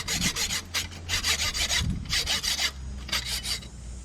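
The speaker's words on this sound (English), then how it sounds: "Just take my hacksaw and cut this little bit off." Hacksaw cutting a small piece off a knife blade, close rhythmic rasping strokes in bursts with brief pauses between, no talking.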